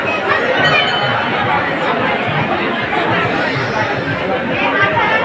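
A dense crowd of devotees at the entrance of a Ganesh temple on Angarki Chaturthi, a loud continuous babble of many overlapping voices with no pauses, close and enveloping.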